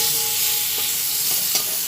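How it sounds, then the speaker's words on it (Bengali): Potato pieces with turmeric and salt fry in hot oil in a pan. A loud, steady sizzle fills the clip, and a few stirring scrapes can be heard close up. "আলুগুলো তেলের মধ্যে দিয়ে নাড়াচাড়া করে ভেজে নিন"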